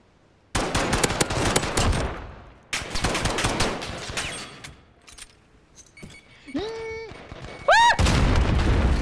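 Gunfire in a Modern Warfare Gunfight match: rapid automatic bursts crack close and loud in two volleys, followed by quieter shots, tonal game effects and rising beeps, then another loud burst.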